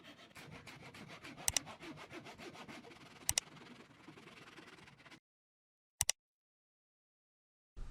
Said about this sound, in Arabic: هنستعمل الزاوية الخشب مع المنشار اليدوي